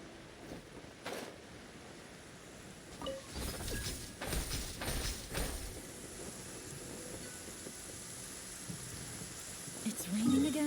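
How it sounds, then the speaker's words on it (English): Rain patters across a scene in the video game Genshin Impact, a soft steady hiss with a few low rumbles mixed in, fairly faint throughout. "It's raining again?"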